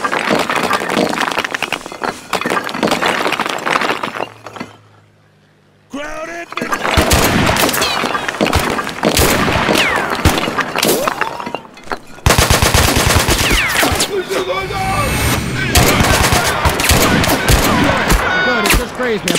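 Dense, continuous automatic gunfire and overlapping shots from the video game Mud and Blood fill the scene loudly, broken only by a brief near-silent gap, with voices speaking amid the battle.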